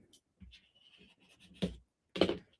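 Paper is folded by hand to make a foiled corner bookmark, heard as faint rustling followed by two sharp, close creasing swipes.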